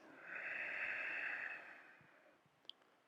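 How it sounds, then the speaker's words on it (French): Ujjayi yoga breath through a constricted throat, one long close hissing exhalation that swells and fades over about two seconds, followed by a faint quiet pause. "Inspirez, expirez en cherchant à resserrer l'arrière de la gorge et produire un son, le son de la respiration."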